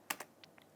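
A few crisp key presses on a computer keyboard, ending with the Enter key, sound close and clear with no talking.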